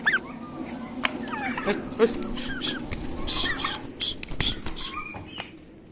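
Turkeys and other fowl on a farm give scattered clucks, chirps and squeaky calls at close to moderate distance amid general yard noise, with bursts of activity throughout.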